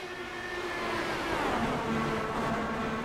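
IndyCar race cars on track at Gateway Motorsports Park, a steady distant engine roar that builds slightly as cars pass, with no talk.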